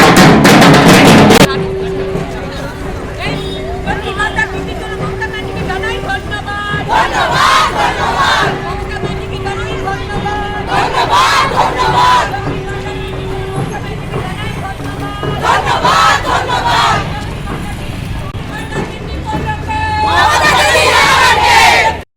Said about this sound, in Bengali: মুখ্যমন্ত্রী মমতা ব্যানার্জির ছবি হাতে নিয়ে তাকে ধন্যবাদ জানাতে শোনা যায় স্লোগান